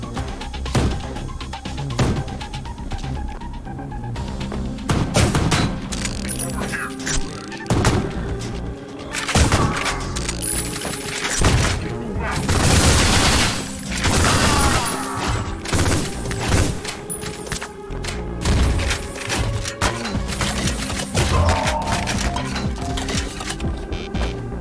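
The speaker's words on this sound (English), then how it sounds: "The gunplay, the sounds... I'm actually just going to let you listen to it right here." Gunfire in the retro shooter Ion Fury: loud, dense volleys of shots and booming impacts mixed with game music, nearly nonstop across the stretch with short lulls between bursts.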